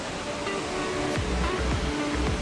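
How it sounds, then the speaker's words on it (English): A waterfall in Queensland's Atherton Tablelands pours into a man-made pool, giving a steady, full-bodied rush of falling water close by that carries on without a break. "It's a man-made pool at the bottom, got the falls up there"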